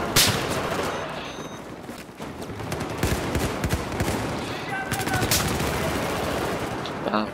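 Dense in-game gunfire and explosive blasts in Battlefield 4, with a tank cannon among them, roaring continuously at close range with a player's voice under the din.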